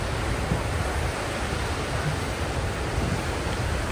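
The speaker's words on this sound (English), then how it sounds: "Here's the falls." A waterfall at Thingvellir National Park in Iceland pours in a steady, loud, broadband rush of water with no pauses and no voices over it.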